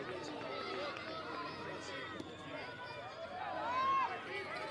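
A Cape Cod League playoff baseball crowd at Bourne heckles the pitcher, a steady hubbub of distant shouting and chatter with a play-by-play voice talking over it.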